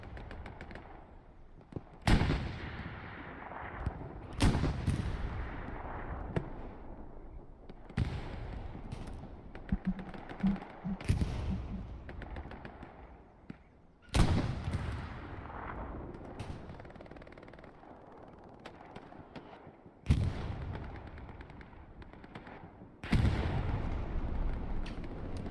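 Video game battle at Utah Beach: rocket blasts and gunfire, with loud booming impacts every few seconds over scattered shots and rumbling, close and heavy throughout.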